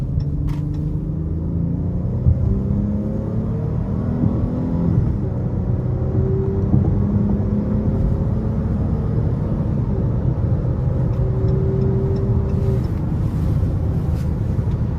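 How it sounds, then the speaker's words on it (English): A 2023 Chrysler 300 Touring L with a 3.6 V6 accelerating hard onto an interstate, engine note rising through gears over steady road rumble from inside the cabin, continuous and fairly loud. "I'm gonna give it a little throttle getting on the interstate here"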